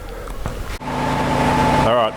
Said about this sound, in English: I've got an extraction fan going on there, and there's a petrol compressor going there.